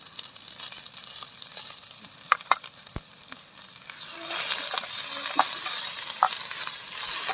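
Onions and green chillies fry in oil at an outdoor forest campsite, starting as a soft crackle with a few sharp clicks and taps, then rising into a louder, steady sizzle partway through.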